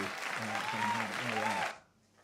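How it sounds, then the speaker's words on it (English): Audience applause during a band's livestream, a steady wash of clapping lasting under two seconds before it cuts off abruptly into near silence. "Sorry to cut off the applause."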